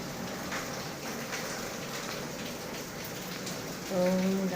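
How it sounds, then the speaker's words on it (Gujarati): Steady rain falls outside a village house, a continuous hiss of drops on surfaces, with a brief tonal hum rising near the end. "વરસાદ આવે છે."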